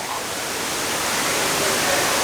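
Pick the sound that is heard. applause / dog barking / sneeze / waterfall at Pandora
waterfall at Pandora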